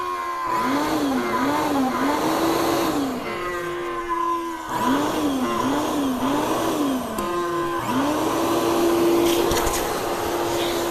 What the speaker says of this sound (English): I'm gonna try to vacuum some of this crap out of here before I start putting stuff back together